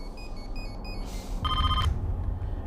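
A telephone rings unanswered in the Nepal royal palace security office: a faint electronic trill, then a louder ring burst, alone over a low hum.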